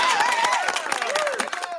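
Clapping sound effect of quick sharp claps in a busy cluster under a voice talking over them.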